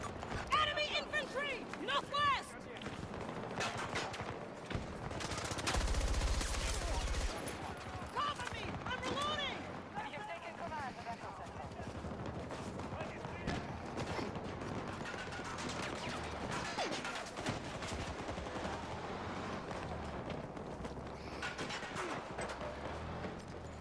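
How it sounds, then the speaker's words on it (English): Gunfire from an AK rifle in the video game Battlefield 2042, with repeated bursts and scattered shots running through the whole stretch over busy battlefield noise, under frequent talk from a player. "I'm like tearing him up with this AK."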